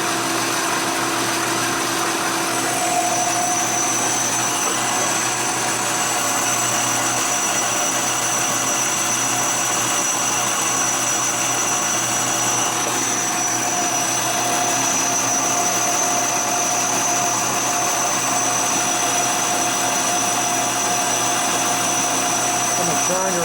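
A lathe turns and cuts a 39mm Harley fork slider for a Dyna, Sportster or FXR, making a loud, continuous machine drone with steady whining tones that holds unchanged throughout.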